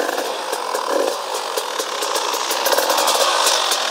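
KTM EXC 300 two-stroke motorcycle engine running with light throttle blips, a steady buzzing drone with rapid crackling pulses throughout, close and fairly loud.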